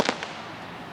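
Fireworks explode in a sharp burst, with two quick cracks close together that fade into a lingering rumble.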